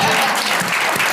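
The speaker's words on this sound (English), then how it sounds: "Y'all can clap for that, too." Brief burst of audience applause at a community development summit, dense steady clapping filling the whole moment without pause.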